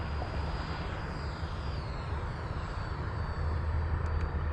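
An Aero L-39 jet's engine on landing practice with the throttle eased back, a steady broadband roar with a low rumble, heard continuously from close by with no talk.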